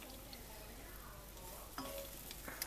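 Browning butter sizzles steadily in a pan for cinnamon sugar popcorn while it is stirred, with a soft crackle throughout and a couple of brief louder scrapes near the end, close and fairly quiet.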